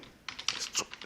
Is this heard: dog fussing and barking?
no